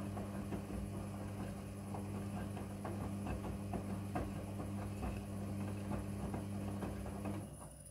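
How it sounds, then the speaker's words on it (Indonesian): A Midea front-loading washing machine runs its wash cycle, giving a low continuous motor hum with steady tones and faint rhythmic churning and sloshing, quiet and unbroken until it fades slightly at the end. "Mesin cuci kemudian akan berputar dan proses mencuci dimulai."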